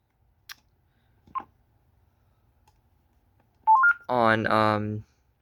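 Keypad tones on an AT&T TL76108 cordless phone, a few faint clicks followed by a short run of clear beeps and one longer, louder tone, with no talk.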